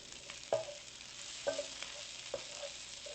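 Onions and garlic sauté in a pan, a steady sizzle with three sharp stirring scrapes spaced about a second apart.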